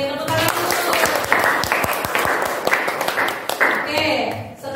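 A classroom of students claps together in a burst of dense, rhythmic applause, with overlapping voices and chatter mixed in throughout.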